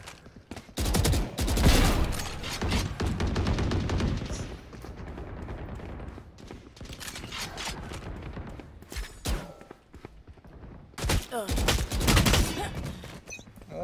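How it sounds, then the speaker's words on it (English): Phantom rifle gunfire in the tactical shooter game Valorant, with loud bursts of automatic shots in several clusters. "I need to learn to shoot with the Phantom"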